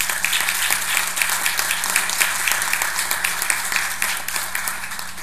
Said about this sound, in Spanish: a quien les pido que le honremos con un aplauso